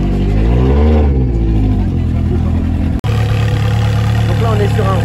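Loud Italian car engine, a Rosso Scuderia, idling and revving at an Italian car meeting at the Linas-Montlhéry autodrome, with a sweeping rev rise and fall, a brief cut, then a steady rumbling idle under crowd talk.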